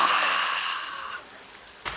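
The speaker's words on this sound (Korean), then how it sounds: "하늘에서 소나기가 내리는 거예요" A sudden rain shower hisses loudly at first, then thins to a softer patter before a brief burst near the end.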